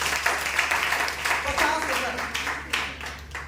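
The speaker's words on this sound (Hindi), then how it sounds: "बस जोरदार ताली तो बनता है।" An audience at an agricultural products income seminar applauds: steady, dense clapping from a crowd, moderately loud, with murmuring voices underneath.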